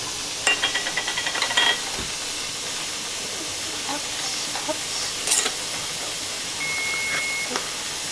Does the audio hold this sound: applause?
no